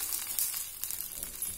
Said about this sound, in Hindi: ये तड़का हम इस बैटर में डाल देंगे